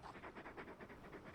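Torgal, a very big dog in a video game, pants in quick, rhythmic breaths that repeat steadily throughout, close and fairly soft, with no other sounds over them.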